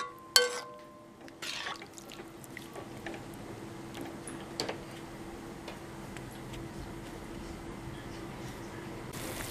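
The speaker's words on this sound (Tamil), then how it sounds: "இந்த தண்ணி நல்லா கொதிக்கட்டும்" Quiet, steady simmering with scattered faint pops and ticks of water bubbling in a pot before semolina is added for rava khichdi, close by and continuous.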